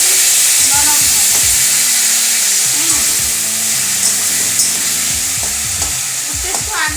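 Jaggery cooking in a pan for sweet-sour mango chutney sizzles loudly and continuously as water is added, with steady frying hiss, close and prominent, and stirring scrapes throughout.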